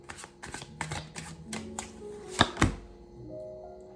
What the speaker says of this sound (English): it's getting much easier to shuffle these cards.